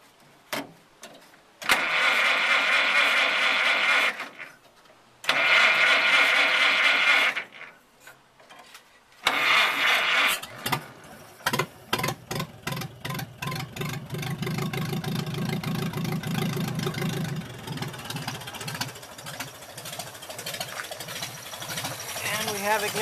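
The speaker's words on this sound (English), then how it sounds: "I'm going to connect the wire and hit the starter, and we'll see what happens here." A 1928 Chevrolet Coach engine cranks on the starter in several long bursts with pauses between, then fires and settles into a rapid, steady, clattering idle, close and loud.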